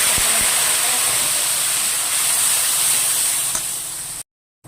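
Ground spice paste hits hot oil tempered with bay leaf, cumin and dried chili for a hilsa fish head and taro greens dish, making a loud, continuous hiss that cuts off abruptly.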